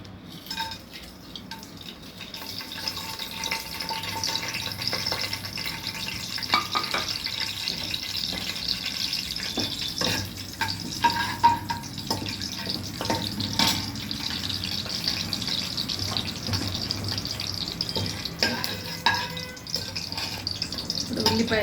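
Garam masala and whole spices frying in a pan, a continuous hissing sizzle with faint crackles and occasional stirring scrapes, steady and moderately close throughout.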